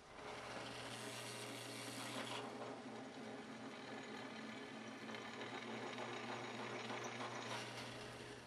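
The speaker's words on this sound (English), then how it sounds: "I'm about to do that on the drill press." A steady mechanical whir of a drill press countersinking holes, with a continuous rasping, buzzing tone that holds for several seconds.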